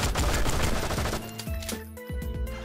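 Rapid automatic gunfire in the first-person shooter GoldenEye: Source, a dense close burst of shots that thins into a few separate bangs near the end.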